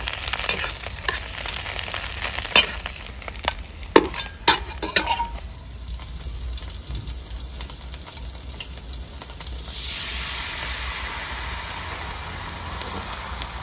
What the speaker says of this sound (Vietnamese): Cái xèo này mình chiên hay lâu.